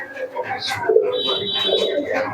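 Pigeons coo at a pigeon shop where white pairs and Giribaz birds are sold, soft low murmuring calls running steadily beneath people talking nearby.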